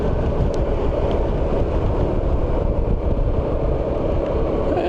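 Steady, loud low rumble of a ride on a Yamaha Xmax 300cc single-cylinder scooter, wind buffeting the microphone continuously with engine drone beneath, unbroken for the whole stretch and with no talking.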